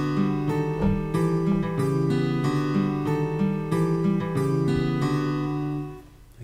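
Guitar playing the melody with harmonised notes over steady picked chords, a clear, moderately loud phrase that rings out and fades at the end, with no talking.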